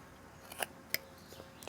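A carving knife makes a V stop cut under the chin of a man's face carved in wood, a few faint, sharp clicks and scrapes against a quiet background.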